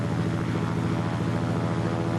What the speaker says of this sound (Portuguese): Um dos aviões mais singulares jamais construídos consegue voar ainda mais baixo e mais próximo da água